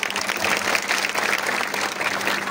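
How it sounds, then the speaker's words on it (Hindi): An audience at a Hindi poetry gathering claps in a full, continuous burst, loud and even from start to finish, with no voices breaking through. "एक बार जोरदार तालियों से स्वागत कीजिए।"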